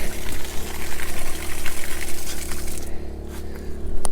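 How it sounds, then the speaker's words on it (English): Water sprays out of a check valve in a steady, loud hissing gush that runs continuously, with a low mechanical hum underneath. "now you can see water spraying out of the one."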